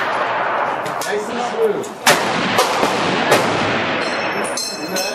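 Shots from a .303 British rifle crack out at a range, a few sharp reports spread across the clip over steady outdoor noise, with someone talking quietly in between.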